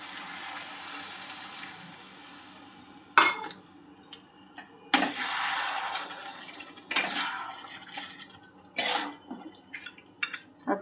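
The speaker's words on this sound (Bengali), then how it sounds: "অল্প একটু জল দিয়ে দেব।" A little water poured into a pot of chicken curry, with a soft steady pour and sizzle followed by several sharp clinks and scrapes of a utensil against the metal pot, close and fairly loud.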